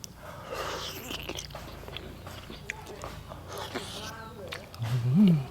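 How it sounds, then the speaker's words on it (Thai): Steamed fish and blanched vegetables are bitten and chewed up close, giving soft crunchy mouth sounds over background chatter, with a louder voiced burst near the end. "ต้องกัดแบบนี้ครับ"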